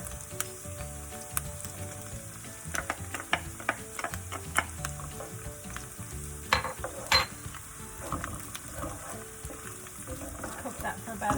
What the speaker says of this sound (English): So we'll gently fry that up a little bit.